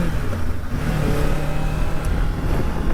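2024 Kawasaki Ninja 500 KRT motorcycle accelerating hard and shifting up toward third gear, engine note rising and dropping in pitch with each change, close and loud with wind noise.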